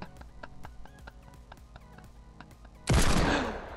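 Gunfire in the battle game Fortnite, with scattered distant shots and footsteps followed by one loud, close blast that rings out and fades over the final second.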